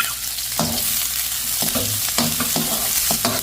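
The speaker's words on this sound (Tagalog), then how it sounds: "Tapos gisa na po natin ang ating bawang sibuyas at luya." Garlic, onion and ginger are sautéed in oil, producing a loud, close, steady sizzle with repeated clattering strokes of a spatula stirring the pan.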